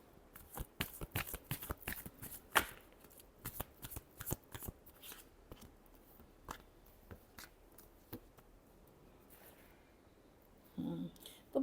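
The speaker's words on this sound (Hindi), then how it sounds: "Last shuffle." Tarot cards are shuffled in quick, crisp riffling bursts and soft snaps, close and fairly quiet, with a brief voice near the end.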